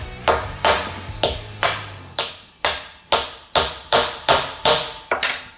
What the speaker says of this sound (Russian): заметьте, молоток из АБС